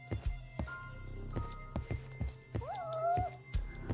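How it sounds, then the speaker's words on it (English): In a video game, a single cat meows once near the end, rising then falling, amid a run of heavy thumping footsteps. "I knew I heard a cat."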